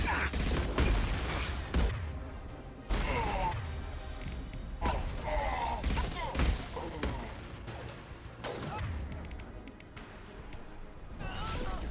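Gunfire in Mass Effect 2, irregular loud bursts and single cracking shots amid combat clatter, with a voice talking between volleys.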